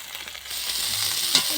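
Eggs frying in a pan for an egg and cauliflower curry at a winter night picnic, a steady broadband sizzle that swells after a brief quieter start, with a faint clack near the end.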